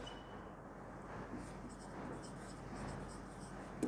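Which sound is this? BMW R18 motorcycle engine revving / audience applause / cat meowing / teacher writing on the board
teacher writing on the board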